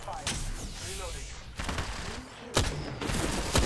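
Rapid gunfire in a video game shooter, repeated bursts of shots with sharp loud cracks near the middle and end, mixed with faint in-game chatter.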